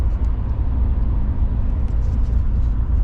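Steady low road rumble and engine drone from inside a vehicle driving toward Mexico at night in fog, continuous and fairly loud with no voices.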